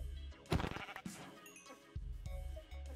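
Minecraft sheep bleating in a survival game, a few short wavering bleats close by, separated by brief pauses, with no talk over them.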